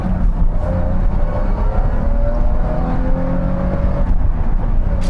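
BMW E24 635 CSi coupe accelerating in second gear, a steady close engine note whose pitch climbs gradually over several seconds, with road and cabin rumble underneath and no talking.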